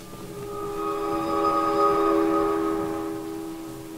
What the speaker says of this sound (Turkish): Duydunuz mu treni?